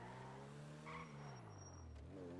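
A car spawned in GTA 5, its game engine note rising and falling with a brief tire skid, loud and continuous throughout.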